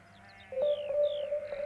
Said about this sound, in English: we already hear the sheeps on the last pig song.